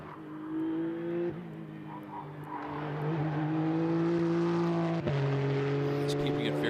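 A race car on a flying qualifying lap at the Indianapolis 8 Hour sustains a loud, steady engine drone that rises in pitch through the gears, with a brief dip for a shift, while commentators talk over it.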